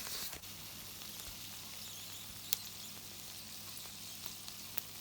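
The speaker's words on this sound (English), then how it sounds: "I'm cooking my sausages, folks." Sausages sizzling in a pan, a faint, steady frying hiss with occasional small pops, heard from close by.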